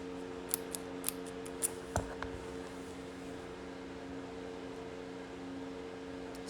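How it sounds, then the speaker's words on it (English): Faint, sharp metallic snips and clicks from cutting a key come in a quick cluster early on, then stop, over a steady mechanical hum in a quiet room. "So let's make a cut right here on the fourth one."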